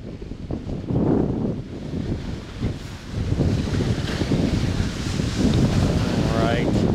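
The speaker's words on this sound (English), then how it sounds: "Windy to be kayaking today." Strong wind buffets the microphone while kayaking on open water in Mexico, a steady rough roar with gusts, and speech is heard under it.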